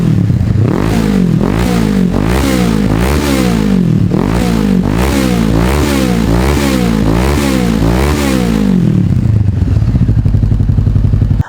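A Honda CBR 600 sport motorcycle fitted with a Yoshimura exhaust, revved hard over and over in a steady rising-and-falling pattern, loud and close, before settling back to a throaty idle.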